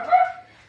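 A dog gives one short, clear bark that fades quickly into quiet.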